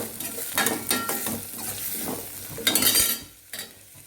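Spices and coconut are sautéed and stirred in a hot pan for a white mutton gravy, with a steady sizzle, a spoon scraping and knocking against the metal, and a few sharper clatters.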